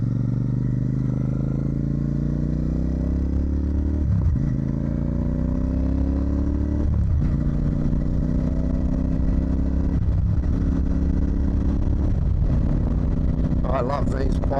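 A motorcycle with loud aftermarket exhaust pipes rumbles and revs while riding, its deep engine note rising steadily through each gear and dropping sharply at every shift, loud and continuous.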